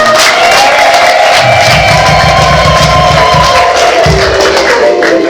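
Wedding guests cheer and applaud loudly and up close as a dense crowd roar, with women's high ululating trills layered on top throughout.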